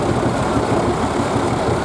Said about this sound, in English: This is very typical of an American tractor. It's petrol only and no hydraulics, just purely the fuel bar.